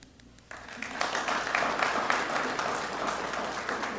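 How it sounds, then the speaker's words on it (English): Audience applause at a City of Little Rock press conference, starting softly then swelling into sustained, dense clapping from a crowd that holds steady to the end. "Let's please give them a round of applause"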